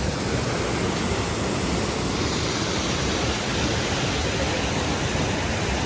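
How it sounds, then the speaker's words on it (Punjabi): Steady, loud rushing of a mountain stream cascading through rocky Himalayan terrain on the Hemkund Sahib trek, a continuous broadband roar with no pauses and no voices. "ਦੇਖੋ ਜੀ ਪਾਣੀ ਦੀਆਂ ਛੱਲਾਂ ਵਗਦੀਆਂ ਪਹਾੜਾਂ ਦੇ ਵਿੱਚੋਂ"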